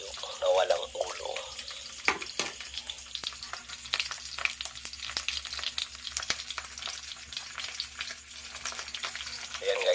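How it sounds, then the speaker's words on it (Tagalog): Headless dried fish (tuyo) fries in hot oil with a steady crackling sizzle, broken by a few sharper pops and clatter. A faint voice is present in the background. "ilunod ang tuyo na walang ulo"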